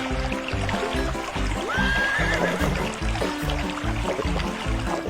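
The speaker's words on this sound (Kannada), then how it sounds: "ಹೊಳೆಯಲ್ಲಿ ಕುದುರೆ ನೀರು ಕುಡಿತಾ ಇದೆ" Horse neighing near a stream: one clear, rising whinny in the middle over a steady, dense background of rushing water and rhythmic low thuds.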